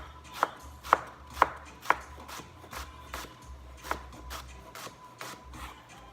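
A knife chops food on a board during ingredient prep for spatchcock chicken, sharp close strikes in an irregular rhythm, a few loud cuts followed by quieter ones, with no talk.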